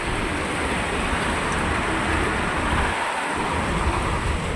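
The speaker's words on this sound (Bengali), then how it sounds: "ধুলো ঝড় আসার পর খুব বেশি শিলাবৃষ্টি হচ্ছে।" Heavy hail and rain pounding down outdoors after a dust storm, heard from a balcony: a dense, steady, loud roar of falling water and ice that never lets up, with no voices.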